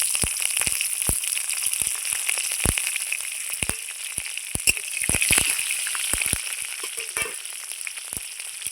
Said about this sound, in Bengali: এবার কাঁচা লঙ্কাগুলো আমি দিয়ে দিচ্ছি ফোড়নে।